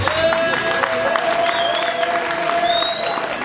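A crowd at an outdoor gathering claps and cheers loudly and steadily, a dense wash of applause with voices calling out throughout.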